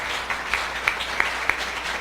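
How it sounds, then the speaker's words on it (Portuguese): A church congregation claps in a steady rhythm during a worship service, with regular distinct claps rising over a continuous wash of crowd noise. "Palmas para o Senhor Jesus"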